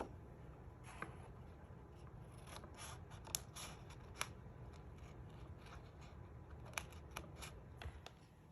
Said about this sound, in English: I'm going to use my snips to cut out my seashells